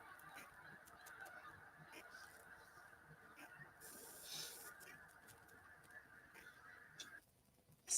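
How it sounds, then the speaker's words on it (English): A large flock of snow geese flying overhead honks continuously in a distant, layered chorus, calls overlapping steadily before suddenly thinning out at the end. "thousands of snow geese flying through."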